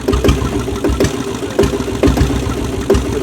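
A TDX 3009 7.5 HP diesel bullet engine idles up close with a steady, loud chugging rumble and regular knocking pulses roughly twice a second.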